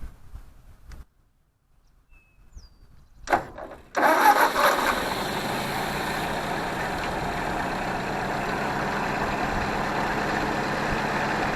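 Ford 641 Workmaster tractor engine, a field find started warm without choke, cranks briefly after a few seconds of near silence, catches and settles into a steady, loud running rumble close by.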